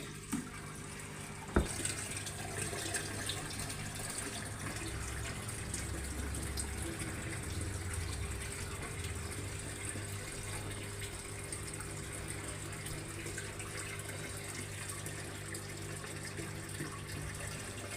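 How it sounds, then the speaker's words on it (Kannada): Borewell water pours steadily into a home fish tank, a continuous gushing, splashing flow with a low hum underneath, close and unbroken from start to finish after a single sharp knock near the beginning. "ಬೋರಿಗೆ ಹೋಗಿ ಬೋರ್ ನೀರ ಅದ್ರಾಗ ಹಾಕಾಕತ್ತಾನ್ರಿ"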